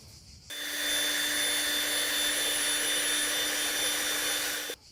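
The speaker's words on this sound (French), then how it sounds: "on va remuer avec un malaxeur rotatif" A rotary paddle mixer stirs paint thinned with a little water in a pot, a steady loud whirring drone that starts abruptly, holds evenly for about four seconds, then cuts off.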